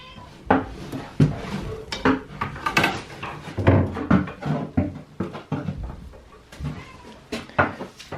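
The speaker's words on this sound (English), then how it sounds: "That's the cat." A cat meows several times in a workshop or house, mixed with clattering knocks, thumps and rattling of wooden and metal objects at irregular intervals, fairly close and loud.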